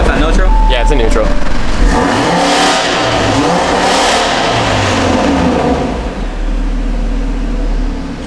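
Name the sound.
Audi RS3 built engine revving in neutral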